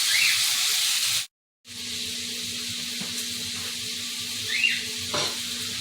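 Italian sausage sizzles steadily in a cast iron pan for spaghetti sauce, a loud continuous hiss with a brief dropout near the start and an occasional light scrape of stirring.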